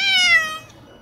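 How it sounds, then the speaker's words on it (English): A scared cat meows during a car ride, one drawn-out, falling meow up close and loud, fading into quiet cabin noise. "She's just meowing, and she's probably very scared."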